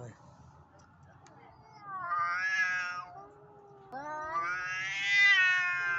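Cats caterwauling while fighting, with two long rising and falling yowls that swell loud and close over a quiet background.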